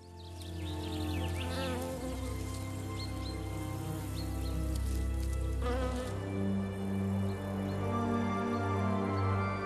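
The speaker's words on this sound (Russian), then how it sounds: "Лавандовые поля вибрируют от шума миллиона пчел." Dense, continuous buzzing of many bees over a lavender field fills the air, a layered droning swarm with individual insects passing close.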